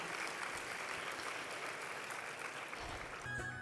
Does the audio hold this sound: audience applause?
yes